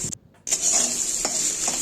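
Steady sizzling of chopped onion frying with potatoes in a pan, with a brief break and a few soft stirring scrapes; no voices.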